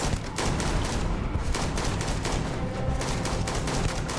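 Dense, continuous gunfire fills a Starfield video game fight, with rapid overlapping shots and bursts at a steady loud level and no pauses.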